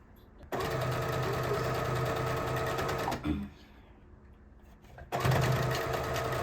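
A sewing machine stitches a tote bag lining in two loud, steady buzzing runs separated by a short pause with handling noises, close to the microphone.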